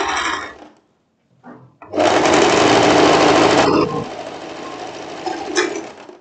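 A sewing machine stitches the side seams of a wrap-style floral dress, with short bursts, then a sustained loud run of rapid stitching that eases to a softer whir near the end.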